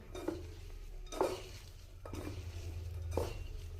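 Cabbage pakoda batter being mixed and squished by hand in a bowl, with several distinct wet slaps and scrapes at irregular intervals over a low steady hum, no talking.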